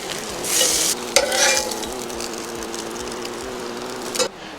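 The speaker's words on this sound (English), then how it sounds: "We got sausage going and water boiling for coffee." Sausages sizzle steadily in a hot pan, a continuous crackling fry with a couple of sharper pops and brief scraping stirs, close by with no talking.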